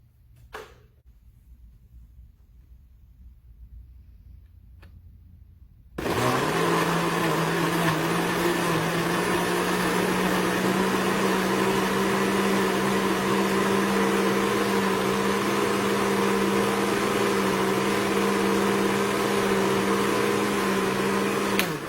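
A blender whirring through vegan chocolate milkshake ingredients, starting abruptly after a few quiet seconds and then running loud and steady at a constant high pitch until the end.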